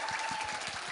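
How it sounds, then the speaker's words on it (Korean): A seated audience at a closing ceremony for a 2014 learners' event gives a brief burst of dense, steady applause that fills the hall. "여러분 큰 박수 보내주십시오"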